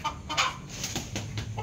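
A chicken clucks repeatedly and loudly, close by, in short rhythmic bursts over a noisy outdoor background, with no speech.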